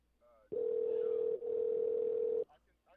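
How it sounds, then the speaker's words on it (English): A single long ringback tone of an outgoing phone call hums steadily for about two seconds with a brief dip midway; faint voices come just before and after it. "Can you hear the phone ringing right now?"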